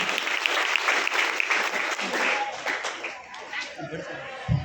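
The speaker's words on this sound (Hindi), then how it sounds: "इन सभी के सम्मान में बात पहले से जोरदार तालियां हो जाएं।" Audience at a formal function with a chief guest gives loud, sustained applause in honour of first-time attendees, dense clapping that thins toward the end, with voices mixed in.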